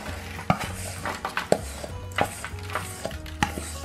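A homemade gluten-free granola mixture is spread across a baking tray, giving scattered scraping and clattering taps of a utensil against the tray, close and moderately loud, with no speech.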